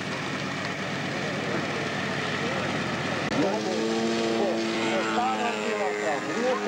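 A giant radio-controlled model airplane in flight, a steady droning engine hum throughout that grows stronger partway through, with someone talking over it.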